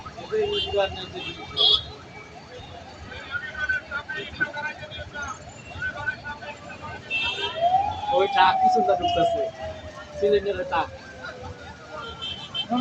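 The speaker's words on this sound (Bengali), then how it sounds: "এটা পুরো অ্যাম্বুলেন্স" Ambulance siren passing along a street during a tense day of police and army presence, its rising wail sweeping through amid crowd noise, traffic and nearby voices talking throughout.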